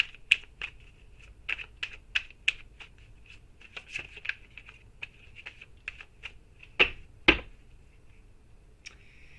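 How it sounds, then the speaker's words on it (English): Tarot cards are shuffled during a live reading: a series of soft, papery snaps and riffles, with two sharper, louder clacks near the end, alone and close. "Hold on, shuffling away."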